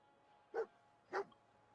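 Two sharp, close dog barks spaced about half a second apart, from a puppy in a Fallout settlement video game, over a quiet hum.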